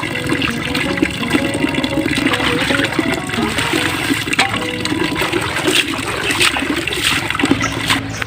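Water runs steadily from a tap with splashing and trickling while pancit noodles are washed by hand in a home kitchen, a continuous close rushing sound with faint clatter.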